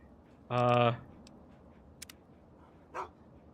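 A single loud bark from the companion dog in Fallout 3, a short harmonic burst near the start, followed by a couple of faint clicks and a brief soft vocal sound over quiet game ambience.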